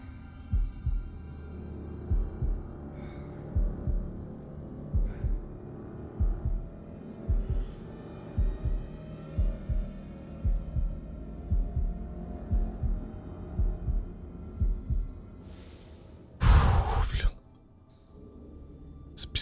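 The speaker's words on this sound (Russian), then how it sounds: "Пульс." A steady, rhythmic heartbeat pulse throbs low and loud through the horror video game Man of Medan, repeating regularly over a droning hum, broken near the end by a brief sharp noise.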